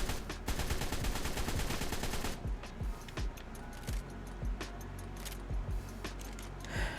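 A modded weapon in ARK: Survival Evolved fires a rapid, continuous burst of automatic gunfire for about two seconds. Scattered single shots and clicks follow at a similar loudness, with a faint steady hum underneath.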